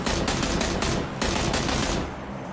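Sustained automatic gunfire in PlayerUnknown's Battlegrounds: a loud, continuous rapid burst with a brief gap, then more fire that cuts off and leaves a fading tail.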